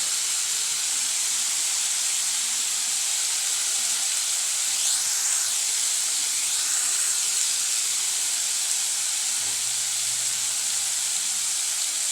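Tomatoes sauté with salt in a pan on the stove for a Tamil side dish to idli and dosa, a steady close sizzling hiss that runs unbroken the whole time with no voices.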